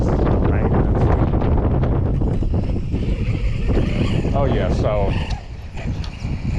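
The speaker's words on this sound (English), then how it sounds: "Oh my god, this wind," Strong gusty wind buffets a microphone outdoors in rain and sleet, a loud, continuous rumbling roar with brief surges, and a voice speaks over it near the end.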